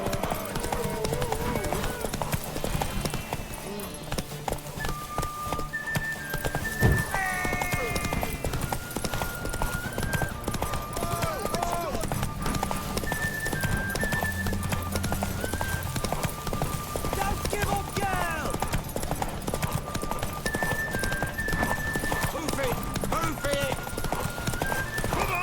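Horse hooves clip-clop rhythmically over a steady backdrop in The Witcher 3, with a whinny and game music; voices talk intermittently over the sounds.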